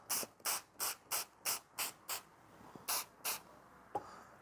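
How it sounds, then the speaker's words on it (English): Eight quick, bright bursts from a spray bottle wetting a Ford Fiesta headlight before wet sanding, evenly spaced over about two seconds, then a pause and two more bursts, close and clear with no talking. "So I'm going to wet the entire headlight again."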